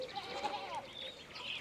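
A sheep in the video game Pentiment gives a short wavering bleat, quiet and fairly close, followed by a higher drawn-out cry over a soft background.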